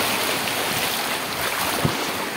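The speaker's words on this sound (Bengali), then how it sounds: "এই যে ঝর্ণা দেখতে পাচ্ছেন তোমরা, খুব সুন্দর ঝর্ণা" A small waterfall on a forest stream at Topchanchi in Jharkhand pours in a steady, dense rush of water, loud and continuous throughout with no voices.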